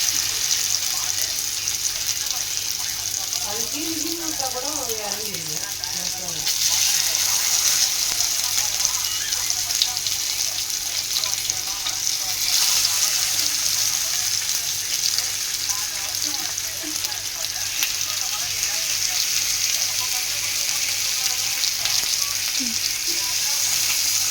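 Chili-powder-and-lemon marinated fish fries on a hot stone pan, giving a steady, loud sizzle throughout with faint clinks and a brief voice near the start.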